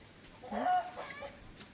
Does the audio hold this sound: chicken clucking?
yes